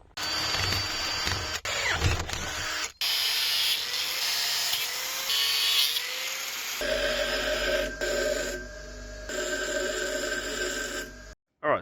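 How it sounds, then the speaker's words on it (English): Power tools cut and drill holes through a thick piece of scrap metal, making a fabricated bracket to mount the alternator during a Mk2 VW Polo twin-cam engine swap. Loud, steady grinding and whining runs nearly continuously, with brief pauses and shifts in pitch. "Just found this thick bit of metal. Gonna cut that down, put a couple holes in it"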